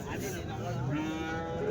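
A calf mooing at a Sunday cattle market in Chintamani, one drawn-out low call rising in pitch, close and clear over a busy background.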